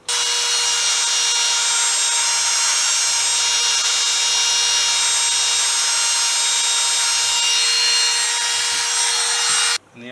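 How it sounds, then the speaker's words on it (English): Steady, continuous grinding of a replacement ignition key for a GY6 Chinese scooter, filing the cuts down to match the original; loud, close and unbroken for nearly the whole stretch, then cutting off abruptly near the end. "now's the job of grinding this down to match"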